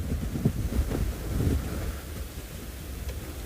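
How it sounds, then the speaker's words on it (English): Strong wind buffeting an outdoor wildlife camera microphone at sunrise, loud rumbling gusts that surge and ease unevenly, with no voices over it. "I'm sure you can hear it. It is windy."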